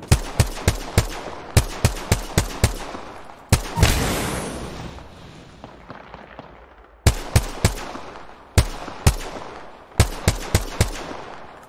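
Gunfire in an Apex Legends tournament shootout: rapid bursts of sharp shots in clusters, one heavy blast with a long decaying rumble, then more quick volleys, loud and close with no talk.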